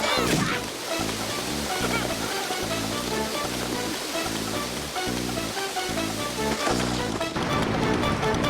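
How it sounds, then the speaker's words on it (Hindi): Waterfall water rushes in a Motu Patlu cartoon, a dense, continuous roar with music playing underneath and swelling louder toward the end. "झरने का पानी आ गया।"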